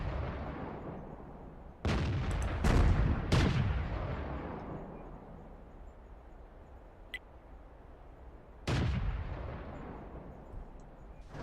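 Tank guns firing in World of Tanks: a heavy boom near the two-second mark, two close blasts around three seconds, and another loud shot near nine seconds, each trailing off into a rumbling decay with a faint background hum between.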